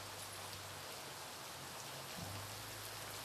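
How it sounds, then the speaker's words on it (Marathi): Steady rain patters on surfaces in a soft, even hiss, faint and continuous throughout with no voices. "पाऊस बघू शकता तुम्ही, हे बघा."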